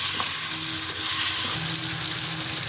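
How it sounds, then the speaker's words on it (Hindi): Masala with black pepper frying for Peshawari namkeen gosht, a dense, loud, steady sizzle with occasional stirring movements in the pan, no voices heard. "अब हम इसे 5 मिनट के लिए भूनेंगे।"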